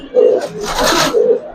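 A Giribaz silver jabra pigeon coos close by in two soft, throaty bursts, with a brief breathy rustle between them.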